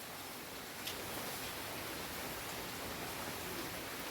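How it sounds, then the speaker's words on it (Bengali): Steady rain falls outside as an even, faint, unbroken hiss that holds constant throughout, with no voices. "সকাল থেকে বৃষ্টি হয়েই যাচ্ছে হয়েই যাচ্ছে।"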